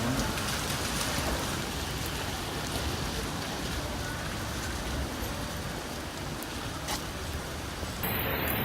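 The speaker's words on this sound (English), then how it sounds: "as you see, it is raining" Steady rain pours down throughout, a dense even hiss of drops on surfaces with a brief shift near the end, falling on waterproof phones being tested.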